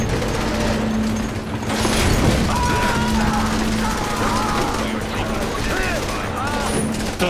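Rapid gunfire rattles continuously in Saints Row: The Third, bursts of shots layered over dense game action and shouted voices during a heist scene.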